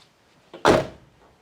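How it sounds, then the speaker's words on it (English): A Mazda Miata NB2 car door swings shut with one solid, close thump after a brief lighter knock, followed by quiet. "when I go ahead and close the door"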